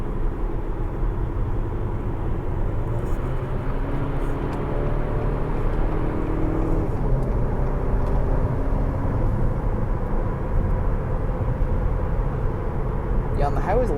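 Acura RDX 2.0T crossover with a Stage 1 intake accelerating, heard from inside the cabin as a steady, loud engine drone mixed with road and wind noise, with no clear gear changes.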